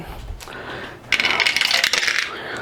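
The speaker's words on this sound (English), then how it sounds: "Oh, crap. Drop the dice." Dice from a Mage Knight Dungeon Crawl board game drop and rattle across a tabletop, a bright clattering burst lasting just over a second after a soft thud, close by.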